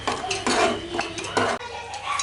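A utensil stirs cream into malai kofta gravy in a metal pan, with repeated clinks and scrapes in an uneven rhythm, close and fairly loud, and no talking.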